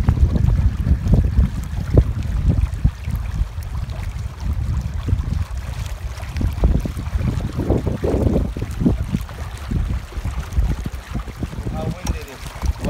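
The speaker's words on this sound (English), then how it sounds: "How windy it is." Strong wind buffets the microphone in a steady low roar over open water from a fishing canoe, with water rushing beneath it and no clear voices.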